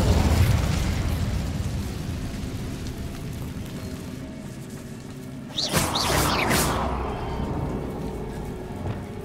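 An Incendio fire spell in Hogwarts Legacy, heard as a sudden whooshing, crackling burst of flame midway through that rises over a rushing, rain-like background.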